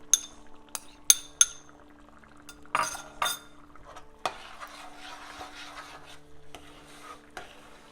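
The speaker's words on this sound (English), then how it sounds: "Reduce the flame to low heat and then keep stirring." Spatula stirring thick pineapple kesari in a pan over low heat, sharp metallic clinks and scrapes at irregular intervals over a soft, quiet bubbling, with no voices.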